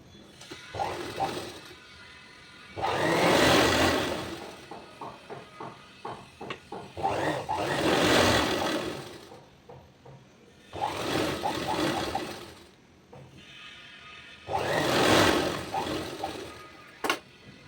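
A sewing machine stitches piping onto a blouse's back neck in four long motor runs, each a few seconds, separated by quieter pauses with small clicks and fabric handling; no talking.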